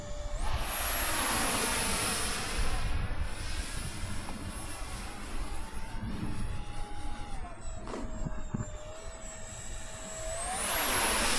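A 3D printed Draken RC plane flies aggressive passes with a loud, steady high-pitched electric motor whine that rises and falls as throttle changes, staying close and prominent throughout with no talking.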